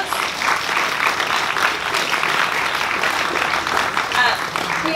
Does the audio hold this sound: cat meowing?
no